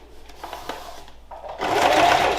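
A sewing machine stitches a tidy seam along oilcloth for a tote bag, starting with light clicks and then running into a steady, close mechanical whir.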